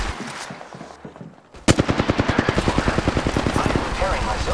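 Automatic gunfire in the Apex Legends video game cuts in sharply after a brief quieter stretch, then continues as a rapid, steady burst of loud, evenly spaced shots to the end.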